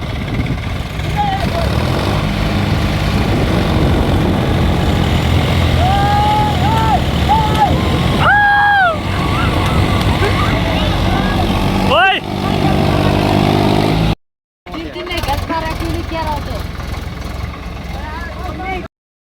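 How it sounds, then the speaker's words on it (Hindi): Three tractors straining together to pull something free, their engines roaring loud and steady throughout with revving swells, while people shout and talk over the noise; a short cut near the end. "देखो भाई साहब, तीन ट्रैक्टर"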